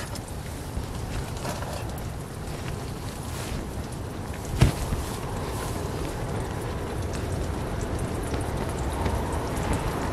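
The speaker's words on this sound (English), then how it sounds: "Hear that wind? Holy crap." Strong wind roars steadily around a tent pitched in urban woods on a cold winter night. The gusts form a dense, continuous rush with one brief sharp knock midway.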